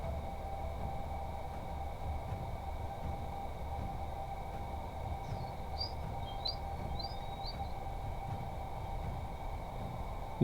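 A person imitates a bird call with a short run of high, chirpy whistles midway through, set against a steady indoor hum with no speech.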